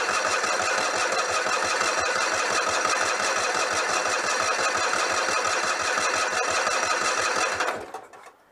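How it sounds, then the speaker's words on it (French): A Citroën 2CV engine, given a little throttle, runs with a steady rapid pulsing chug that stays loud and even for about eight seconds before cutting off abruptly into quiet. "Alors, je donne un petit coup d'accélérateur et j'actionne le démarreur."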